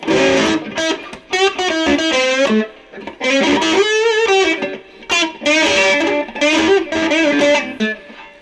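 Squier Sonic Mustang electric guitar through the middle pickup with heavy distortion, loud and gritty, played in short phrases separated by brief pauses, with no talking.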